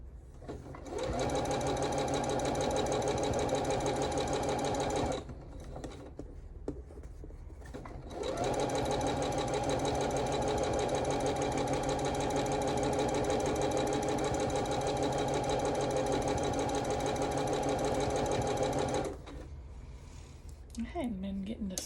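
A sewing machine stitches a quilted Calico Snails table runner in two long, steady runs of fast whirring, separated by a short pause and ending in quiet.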